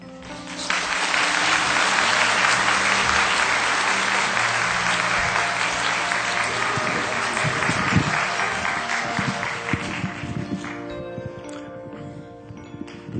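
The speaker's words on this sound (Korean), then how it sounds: "이 모든 박수는 하나님께 돌립니다." A church congregation bursts into dense, loud applause that holds steady for several seconds, then thins out and fades to scattered claps, with no talking over it.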